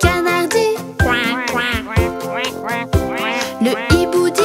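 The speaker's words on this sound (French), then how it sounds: "le canard dit" Duck quacking in a French children's nursery song, with repeated bright, nasal quacks set over a sung melody and musical backing, loud and close.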